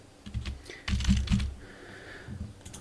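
Typing on a computer keyboard while entering a password: a short, close run of quick key clicks in two or three small clusters, with no voices.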